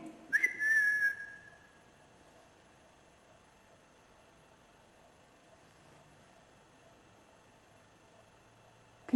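A single short whistle near the start inside the disused Denbigh Asylum in North Wales, clear and fairly loud, followed by long near-silence with faint background hiss.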